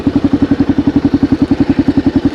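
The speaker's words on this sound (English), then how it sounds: "So anyway, 96 KLR Kawasaki 650. An older bike, obviously." A 1996 Kawasaki KLR650 motorcycle engine runs close and loud with a steady, even thumping pulse of a single-cylinder idle, repeating rapidly throughout.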